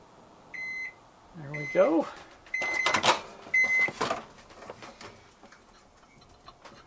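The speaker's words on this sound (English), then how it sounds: "the inverter could run my microwave in the RV" A microwave oven powered through a 1500 W inverter in an RV gives several sharp beeps, followed by clicks and ticks as it runs. A person speaks briefly between the beeps.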